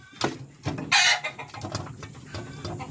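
Native chickens on a small farm making short, soft clucks and calls at close range, with one brief louder squawk, against a quiet background.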